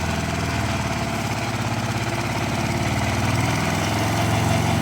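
An MTZ tractor engine idles steadily throughout, a loud, continuous low rumble with an even mechanical throb and no talking.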